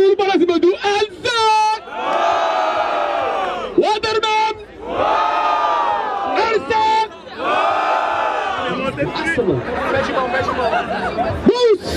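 Loud crowd at a freestyle rap battle in Barueri, São Paulo, roaring and shouting in repeated bursts, swelling and dropping with brief gaps, with an MC's voice calling out between the surges.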